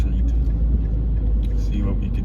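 A Mercedes AMG car drives along Barton Street with a constant, heavy low engine and road rumble that fills the short span without a break.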